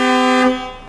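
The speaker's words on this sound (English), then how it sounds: "air horn switch. Let me just press that actually, and let me just see what it sounds like." One loud, blaring blast of a 2019 Scania R500 truck air horn, steady and brassy, lasting under a second before tapering off.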